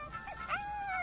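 A cartoon puppy in a 101 Dalmatians animated storybook computer game gives a short, high, wavering whimper that rises into a thin sustained whine, close and alone for about a second.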